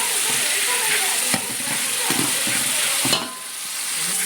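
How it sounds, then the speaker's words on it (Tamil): Chopped large onions sizzle steadily in a hot pan for a big batch of sambar, a continuous frying hiss with occasional stirring scrapes, close and fairly loud. "வெங்காயத்தை நம்ம பெரிய வெங்காயம் நல்லா நறுக்கி சேர்த்து நல்லா வதக்கிக்கிடலாம்"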